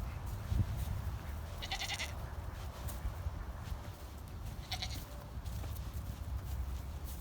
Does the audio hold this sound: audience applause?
no